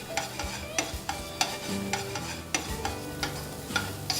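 Diced capsicum stirred in a pan of Knorr tomato makhani gravy with a little oil, a spatula scraping the metal in repeated clear strokes over a soft steady sizzle, close and fairly quiet.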